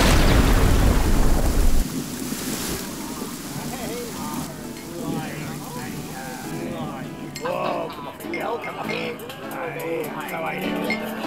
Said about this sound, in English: stormy night.